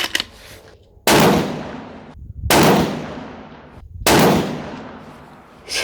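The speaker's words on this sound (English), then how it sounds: "let's see how this groups on our first 5-shot group here at 100 yards." A 6.5 Creedmoor RPR rifle with a 24-inch Krieger barrel fires three loud, sharp shots about one and a half seconds apart on an outdoor range, each with a long echoing decay.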